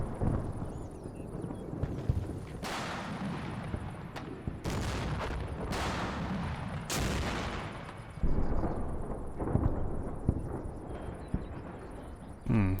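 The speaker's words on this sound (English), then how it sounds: "it looks like the Russians are using some artillery on us" Russian artillery fire in the Cold War strategy game Combat Mission: several heavy blasts and rumbling impacts at irregular intervals, mid-distance, with a voice talking over them.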